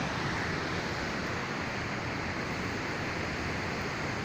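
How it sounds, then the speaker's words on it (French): A mountain torrent swollen by a thunderstorm crashes down as a waterfall, filling the air with a loud, steady broadband roar that never lets up. "le torrent qui a grossi avec l'orage et ça fait une superbe cascade"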